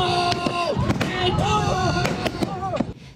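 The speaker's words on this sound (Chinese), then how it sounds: "现场响起砰砰炮声" Staged cannon blasts at an immersive war reenactment game at a Shandong Linyi film base: a rapid series of about eight sharp, loud bangs, irregularly spaced, over a steady bed of music or voices.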